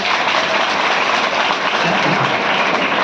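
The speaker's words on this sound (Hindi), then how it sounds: "ताली बजाओ बच्चे के लिए" Children in a classroom clap together for a classmate, a steady, dense burst of applause filling the room for about three seconds without pause.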